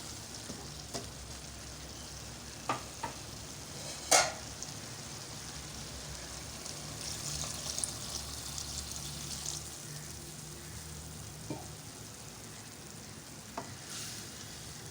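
Moringa flower sabzi simmering and sizzling softly in a pan after boiled water is added, a faint continuous crackle with a few small clicks and stirs, no voices.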